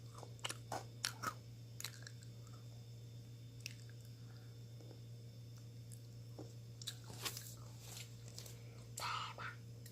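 Close, quiet crunching and chewing of chocolate-coated Pepero sticks, with irregular crisp bites and soft mouth sounds over a steady low hum, plus a few faint whispered sounds.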